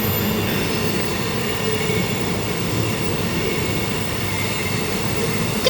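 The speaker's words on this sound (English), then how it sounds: "we're on the train." A passenger train runs along the line to Ipswich, heard from inside as a steady loud rumble of wheels on track with faint squeals and rattles throughout, and no talking.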